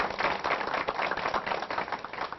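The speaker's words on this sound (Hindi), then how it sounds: "मैं चाहूंगा बस जोरदार तालियां हो जाए सभी किसान भाइयों के लिए" A gathering of farmers at a cotton-farming question forum breaks into loud, continuous clapping, many hands patting in a dense, lively patter that holds steady without talk.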